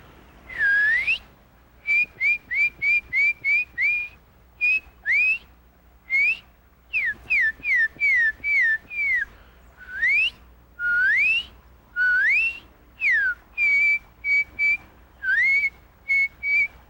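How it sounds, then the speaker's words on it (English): A person whistles a bright, lilting tune in short phrases of rising and falling notes, with brief pauses between them and no talking. "I like to whistle when I walk"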